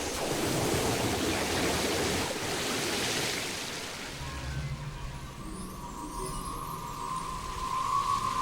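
Ocean waves and surf from the video game Chrono Cross wash steadily in a broad, loud hiss that eases midway, then continues more softly with a faint tonal hum beneath.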